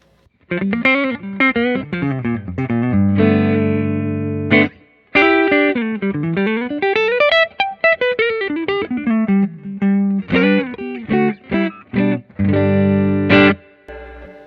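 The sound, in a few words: electric guitar through clean amp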